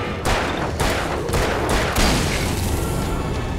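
Rapid gunshots from Alan Wake Remastered crack in quick succession, a loud, dense volley of booming shots that runs steadily from start to finish.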